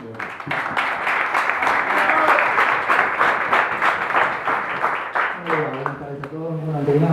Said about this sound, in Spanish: quisiera que le demos un fuerte aplauso a Hernán Carror